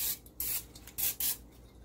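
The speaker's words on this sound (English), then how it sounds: "I got some of this Pam spray oil here." Pam cooking oil spray hisses into a crock pot in four quick close bursts, each a short airy spray with brief gaps between them, heard alone.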